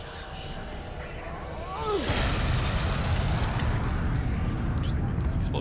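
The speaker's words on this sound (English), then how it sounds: "Just an explosion go off." An explosion in The Witcher 2 builds into a loud, sustained roaring rumble after a moment of quieter game sound with a brief whooshing sweep. It stays dense and steady to the end, with voices faintly audible.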